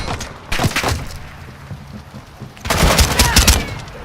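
Loud rapid gunfire rattles in two dense bursts in a first-person shooter video game, with a noisy battlefield bed running underneath between the volleys.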